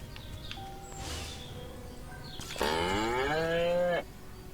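A cartoonish cow moos in the Destroy All Humans remake video game, one drawn-out, rising moo lasting over a second, loud and close, after a stretch of quieter game ambience.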